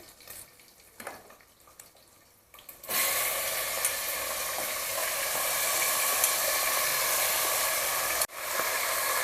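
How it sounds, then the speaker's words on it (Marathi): Mutton pieces drop into hot oil with bay leaf and turmeric in a pressure cooker, setting off a sudden loud sizzle that continues steadily after quieter stirring and clatter, with one brief pause. "आता मटण पहिल्यांदा आपण परतून घेऊया त्याच्यामध्ये"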